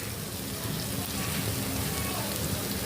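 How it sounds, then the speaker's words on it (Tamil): Mixed masala powder sizzles in hot oil with cooked ginger-garlic paste and chili powder for chicken biryani: a dense, steady, close crackle that runs without a break. "எண்ணெயிலேயே மசாலா போட்டால் தான் கொஞ்சம் நல்லாயிருக்கும்."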